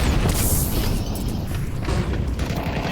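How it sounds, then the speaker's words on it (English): A grenade explodes in Counter-Strike on the map Nuke, a loud sustained boom with a dense, rumbling body that fills the whole stretch. "Was that a nade tossed by a CT on top of Hut into heaven?"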